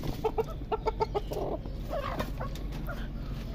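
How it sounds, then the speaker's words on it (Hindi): Several chickens cluck close by in quick, short bursts, with a steady low background hum underneath. "ये सबसे पहले मैं इन मुर्गियों को बाहर निकालता हूँ"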